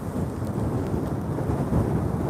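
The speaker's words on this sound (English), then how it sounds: "It's definitely raining now." Steady, dense rain hiss on a beach in winter with a low rumble underneath, continuous and fairly loud throughout.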